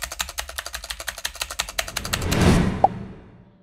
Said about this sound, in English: as most of the unwanted rattling noise comes from the stabilizer wire